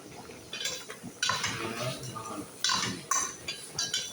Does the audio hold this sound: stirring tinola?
yes